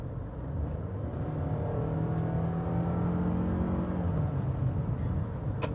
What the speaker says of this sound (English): We're gonna leave it in normal, we're gonna leave it in automatic and take it through some of the turns.